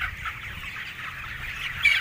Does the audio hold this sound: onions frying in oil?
no